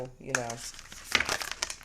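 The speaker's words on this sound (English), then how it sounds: "I don't like bending my cards, so my shuffle may be a little," An oracle card deck shuffled gently without bending the cards, giving a short papery crinkling and riffling right after a few spoken words.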